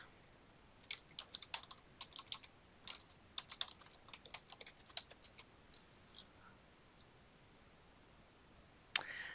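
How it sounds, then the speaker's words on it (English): Quick, light keystrokes on a computer keyboard tap out a password in a short irregular burst, close and quiet, with a louder click near the end. "It requires me to enter my password again."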